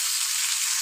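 Chopped onions frying in oil in a pan for a chicken dish, a steady close hissing sizzle that holds level for under a second, with no talk.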